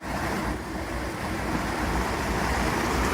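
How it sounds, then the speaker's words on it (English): A simulated waterfall beside a pond in a Japanese garden at Ooty Botanical Garden makes a steady broadband rush of falling water, continuous and fairly close, with no voices. "Next to the Japanese garden is some kind of pond and some simulated waterfall."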